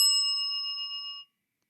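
A single bell strikes once with a bright, clear ding that rings on steadily and then cuts off abruptly after about a second, loud and close with no other sound.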